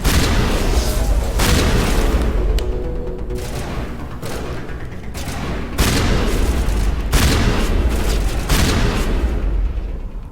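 Shotgun blasts in the sci-fi shooter Mass Effect, several loud booming shots spaced a few seconds apart, each with a sharp onset and a rumbling tail.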